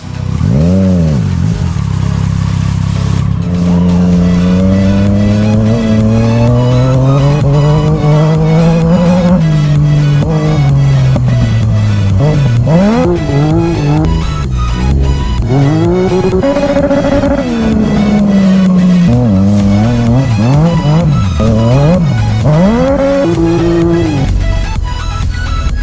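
A motorcycle with spiked tyres rides on ice, its engine loud and close, revving up and down in rising and falling sweeps, repeatedly accelerating and easing off without a break.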